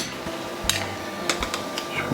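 A dessert spoon scoops peanut butter into a bowl of overnight oats, making a few sharp, quiet metallic clinks and taps spaced irregularly over soft background noise.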